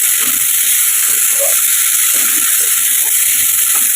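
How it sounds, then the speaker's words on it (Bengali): Whole spices tempering in hot oil in a home kitchen pan, a steady loud sizzle and hiss filling the whole stretch without pause, close up, with no talk. "এটা একটু ভাজা ভাজা হয়ে যাক,"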